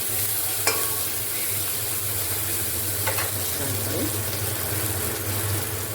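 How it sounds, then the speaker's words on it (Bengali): Long beans fry in a pan with a steady, low sizzle, broken by a couple of sharp clicks from a spatula stirring them, with a faint hum running underneath. "বরবটিটা হালকা করে ভেজে নেব।"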